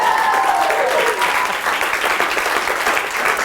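Audience applause at a live comedy show, a steady wash of many hands clapping together at full volume for the whole stretch, with a brief whistle near the start.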